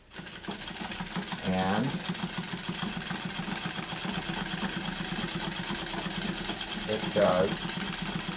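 A Wheeler and Wilson W9 treadle sewing machine, adapted for free motion quilting, stitches with a steady close rhythmic mechanical whir, while a person talks over it.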